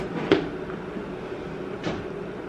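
Two short wooden clacks, one early and one near the end, as a small drawer of an advent calendar is pulled open, close up in a quiet room with a faint background hum.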